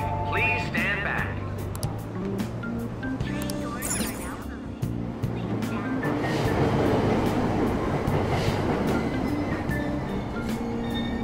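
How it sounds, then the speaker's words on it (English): A subway train in the video game Persona 5 Royal departs from the station with a rising mechanical whir and rumbling wheels that grow louder. Beeps and a chime sound early on, and a station announcement voice speaks at the start. "Train doors are now closing."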